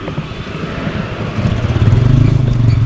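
Motorbikes and tuk-tuks pass close by on an Indian street, a rumbling engine swelling louder over a few seconds amid busy traffic noise.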